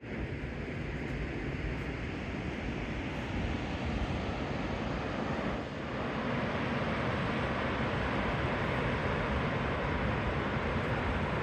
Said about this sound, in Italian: Siamo veramente dinanzi alla cascata più imponente del continente europeo.